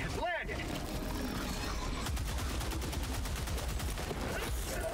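Rifle fire from the BR-14 Adjudicator marksman rifle in Helldivers 2, a quick burst of sharp shots, then a rapid train of cracks and game effects, loud and close with no voices.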